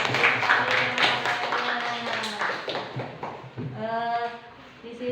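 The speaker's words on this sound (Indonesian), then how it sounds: "Kasih aplaus dulu buat kelompok 1." Applause for a student group in a classroom, a steady wash of hand clapping from many people, with voices calling out over it.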